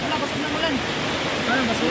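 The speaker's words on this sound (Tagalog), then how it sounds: "Ngayon lumalakas na yung ulan." Heavy rain pours down over a flooded farm, a dense roaring wash of water that stays loud and steady, with voices faintly mixed in.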